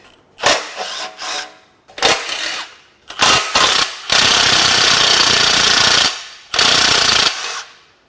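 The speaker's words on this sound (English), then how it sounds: "let's go ahead and get the exhaust manifold off" Bursts of a pneumatic impact wrench rattle in short blasts, then one longer continuous run, with quiet pauses between, loud and close, unbolting the exhaust manifold on a Toyota 3RZ engine.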